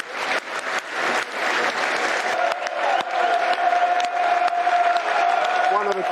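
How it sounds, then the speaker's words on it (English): A football stadium crowd at a Millwall versus Leicester City Carabao Cup match gives a minute's applause, sustained clapping and scattered cheers filling the ground while a commentator speaks over it. "There will now be a minute's applause, which will start and end on the referee's whistle."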